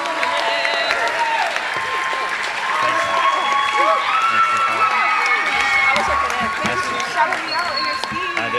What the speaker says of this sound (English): Please join me in a round of applause for these parents and friends of the program for their continued support.